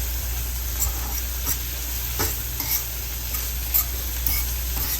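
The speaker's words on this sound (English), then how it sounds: "Saute that in the butter." Onions sauté in butter in a pan with a steady, close sizzle and occasional soft stirring scrapes, heard alone without speech.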